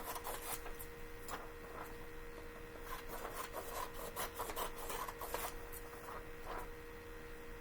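Paper notes for a math notebook are trimmed, giving quiet, uneven scraping and snipping strokes against a constant background hum, with no voices.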